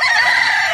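A rooster crows loudly and close for a short moment at a gamefowl yard kept for cockfighting, the call sustained and bright with no talk over it.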